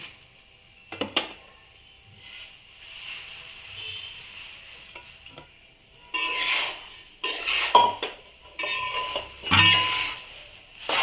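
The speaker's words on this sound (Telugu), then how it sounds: "ఒకసారి కలిపేసుకుందాం పోపు స్మెల్ అయితే సూపర్ వస్తుంది ఇప్పుడు అటుకులు వేసేద్దాం" Poha being mixed into a hot tempering in a metal pan, with scattered clinks and scrapes of a spoon against the pan and brief bursts of sizzling, close by, between quieter pauses.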